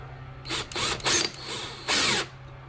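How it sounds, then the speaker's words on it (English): Power drill whirring in three close, loud bursts with short pauses between, driving a screw through the wooden lid of a homemade carpenter bee trap. "I'm gonna take a screw, and I'm gonna screw it,"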